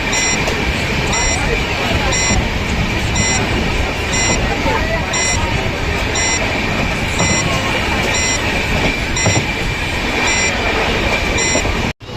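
The Biswabharati Express rumbles steadily out of Bandel station at close range, with a loud, continuous roar and a repeating high electronic beep throughout, ending abruptly.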